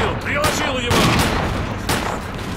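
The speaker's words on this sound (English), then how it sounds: "You're using a shotgun!" Shotgun blasts in the Stalker Clear Sky game, with several loud, sharp reports spaced about a second apart over a busy, dense combat din.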